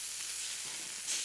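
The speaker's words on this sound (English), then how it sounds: "Ooh, sizzling noises." Steady sizzling of food frying in a pan within the Flowers: Le Volume sur Printemps visual novel, a continuous hissing crackle at even volume with a slight swell near the end, no voices over it.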